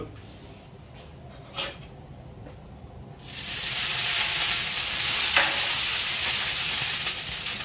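Olive oil sizzling on a hot plancha griddle before asparagus goes on, a steady loud broadband hiss that rises abruptly after a few quiet seconds with light clinks, and continues alone.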